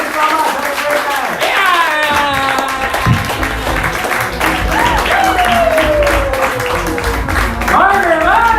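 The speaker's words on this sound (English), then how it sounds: "Everybody, applause for me." A comedy club audience in Long Island City applauds a comedian at a fundraiser show, sustained crowd clapping and cheering that runs the whole stretch, with voices and loud tonal shouts rising over the clapping.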